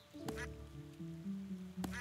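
Ducks swimming in a fountain in the online video game Star Stable Online give two soft, short quacks about a second and a half apart, faint over quiet sustained game music.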